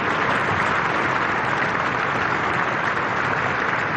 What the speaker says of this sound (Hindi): हम सब इसकी ताली बजाकर स्वागत करें